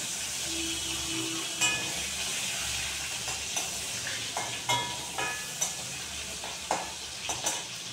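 A small whole onion and a few spices fry in a pan of koi fish curry, giving a steady sizzle with scattered pops and light clinks from stirring, close and even throughout.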